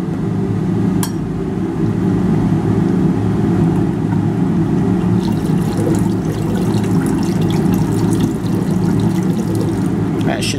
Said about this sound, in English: I'm gonna add it to the solution now that's been filtered while I stir